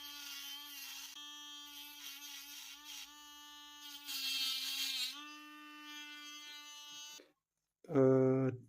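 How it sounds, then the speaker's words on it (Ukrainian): A YRZ-05 pen-style electric nail drill with a ceramic bit whines as it grinds off gel extensions. The buzzing tone is steady but shifts in pitch, then cuts out and is followed by a brief louder sound. "Так, керамічна фреза, фрезер Ліна."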